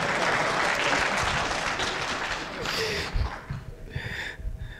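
Audience applause after a software design conference talk: dense clapping for a few seconds that thins into scattered claps, with breathing and small noises close to the microphone.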